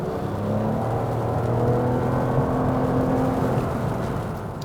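A 2022 Lexus RX 450h hybrid SUV in Sport Plus mode accelerates with a steady, loud engine drone and whir, rising tones sweeping through the run, with road noise and no talking.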